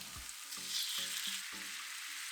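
Pork belly sizzling in a pan with sugar and soy sauce, a steady hiss broken by several soft clattering knocks of a utensil, moderately quiet and close, with no voices.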